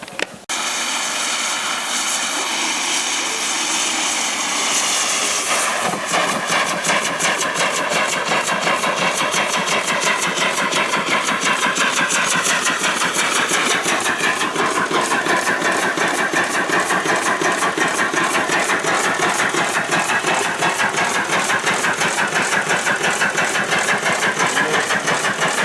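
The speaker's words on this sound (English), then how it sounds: "Called an oscillating steam engine" At an outdoor steam-up event, an oscillating steam engine, whose cylinder rocks as it runs, chuffs with a rapid, even, mechanical beat. The sound is loud and close, holds steady for a long run, and settles into its fast rhythm after a few seconds.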